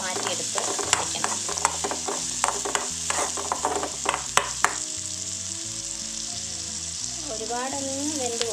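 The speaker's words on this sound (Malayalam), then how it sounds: "അപ്പോൾ നമ്മൾ ഇനി അടുത്തത് സവാള വഴറ്റാൻ പോവാണ്." Sliced onion and garlic sautéing together in a pan for a brinjal chammanthi, a loud close sizzle with rhythmic stirring clacks of a spoon against the pan, over a background of steady music.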